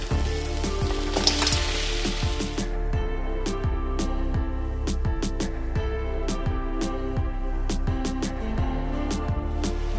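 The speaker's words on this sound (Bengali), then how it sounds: "মশলাটা কষানো হয়ে গেছে এবার কাঁকড়াটা আলুটা ভিতরে দিয়ে দেবো" Crab pieces and potatoes fry in a spiced masala for a Bengali crab kosha. A loud steady sizzle fills the pan, with repeated scraping clicks from stirring and a faint tonal background throughout.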